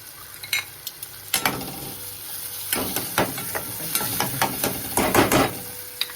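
Dal with kasuri methi is stirred in a sizzling pan, the spoon clinking and scraping against the metal in uneven bursts over a steady frying hiss, close up and with no voices.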